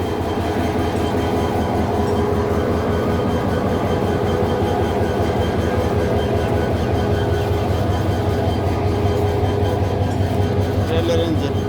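A railway locomotive engine runs steadily at a station as the engine is uncoupled from the carriages, a continuous loud rumbling drone with rhythmic clattering, and a voice talks over it.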